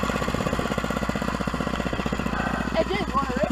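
A warmed-up mini bike's small single-cylinder engine runs with a steady, rapid chugging pulse up close, with voices briefly heard over it near the end.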